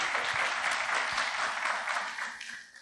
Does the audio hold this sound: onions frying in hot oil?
no